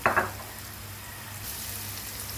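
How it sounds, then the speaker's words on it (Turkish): Ground spices, salt and pepper flakes hit a hot pan and sizzle with a sharp hiss, followed by a steady, close frying sound without talk. "Bunlarla birlikte kavuracağım"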